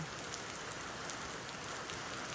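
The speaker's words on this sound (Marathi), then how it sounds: "काय पाऊस पडतोय जोरदार बघा तुफान पाऊस पडतोय" Heavy rain pours down in a steady, even hiss that stays constant throughout and sounds fairly faint and distant, with no voices.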